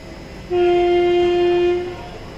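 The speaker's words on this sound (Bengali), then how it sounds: "বর্ধমান স্টেশন থেকে ছেড়ে দিল আমাদের ট্রেন, এই বর্ধমান স্টেশন ছেড়ে বেরিয়ে যাচ্ছে।" The 13176 Silchar–Sealdah Kanchenjunga Express leaves Bardhaman station with one loud, sustained horn blast lasting about a second and a half, close by, over a steady rumble of rolling coaches.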